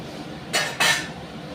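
A metal spatula scrapes a cooking pan twice in quick succession. The two short, bright rasping strokes are close and clear over a quiet kitchen background.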